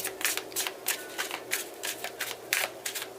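Tarot cards being shuffled by hand in a run of quick riffling bursts, about eight short crisp rustles in a steady rhythm, close and fairly loud with no talking.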